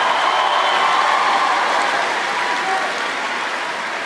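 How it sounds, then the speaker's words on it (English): A large crowd at a university commencement ceremony breaks into warm, continuous applause for a graduate, a broad, even roar of clapping with no gaps that eases slightly toward the end. "Please give Miss Kimberly Ann Moore a resounding warm round of applause"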